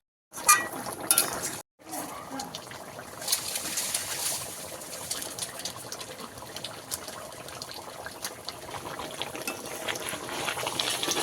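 Water pours into a pan of spiced fish kalia with half-cooked fish, opening with a loud splash, a brief pause, then a continuous close gushing and hissing bubble that runs to the end.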